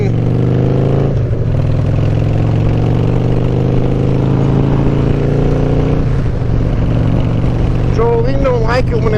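A fuel-injected motorcycle engine warming up on a cold, wet morning, a steady loud rumble with a low harmonic drone that dips briefly and climbs in pitch, with talk over it near the end.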